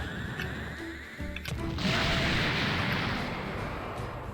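A Super Saiyan energy blast explodes in the Minecraft Dragon Block C game during a battle on Namek. A loud, rumbling roar of noise erupts partway through and sustains to the end, following a few sharp clicks.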